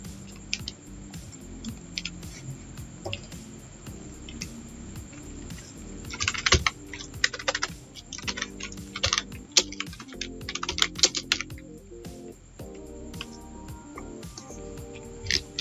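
Fingers typing on a computer keyboard while entering text in MS Word 2007, with quiet, uneven runs of clicking keystrokes that turn quicker and denser midway, heard close up and alone.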